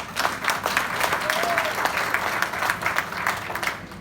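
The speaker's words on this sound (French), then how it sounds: "Acclamez d'abord très fort pour elle." Applause in a church testimony gathering, a loud, steady crowd clapping with some cheering throughout, and a voice heard briefly over it.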